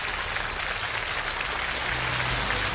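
A studio audience at the Uyghur Got Talent show claps steadily and loudly, a dense, even wash of applause with no break.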